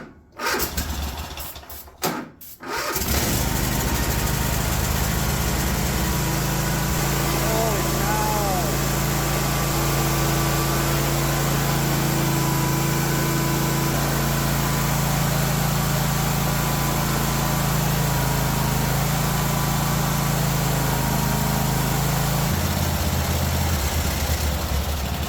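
Cub 1050 Hydro tractor engine starting after a few cranking bursts, then running steadily at full throttle with a loud constant drone before the pitch drops near the end.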